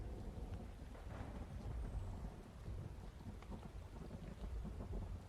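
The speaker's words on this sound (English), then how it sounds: "So this adds to the effect that the rain is like we have a heavy rain" Heavy rain falls with rolling thunder in an Unreal Engine dynamic weather system, a faint steady downpour hiss broken by low, distant rumbles and soft patters.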